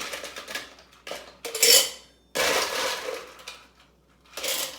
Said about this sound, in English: I'm gonna take these 3 ingredients, I'm gonna shake them